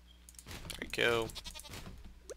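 A goat in the farming game Stardew Valley bleats once, clear and close, its wavering call standing out above soft game background sounds and brief clicks.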